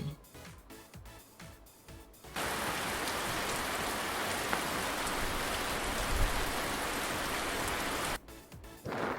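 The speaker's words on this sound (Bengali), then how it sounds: "ছাতা মাথায় বৃষ্টি পড়ে" Steady rain falls in a dense, even hiss for several seconds, loud and close, with quieter passages of other sound before it starts and after it stops abruptly.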